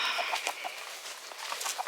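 Chickens around a garden cluck in a steady scatter of short, soft calls, several birds overlapping at moderate distance outdoors.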